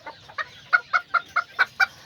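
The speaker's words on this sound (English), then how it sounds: "And there's his little chicken over there." Clucking from a small Azteca or Serama chicken kept with hens and roosters, a run of about ten short, evenly spaced clucks, fairly close and clear with no talk over them.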